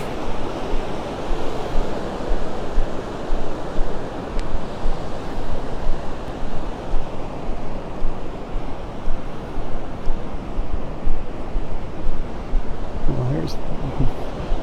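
Surf rolls steadily onto a Gulf of Mexico beach at Vanderbilt Beach in North Naples, Florida, a continuous broadband wash of breaking waves with light wind buffeting, with a brief faint voice near the end.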